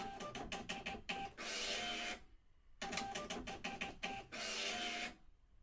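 A fiscal receipt printer at a cash register prints cash-closing slips in two rapid bursts of dot-matrix chatter and feed whir, separated by a short pause, close and fairly loud with no talk.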